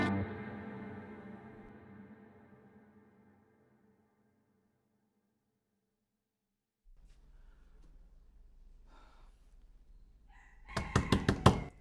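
A sustained ringing tone fades out, silence follows, then a faint rustle and a loud burst of about six rapid knocks on a door near the end.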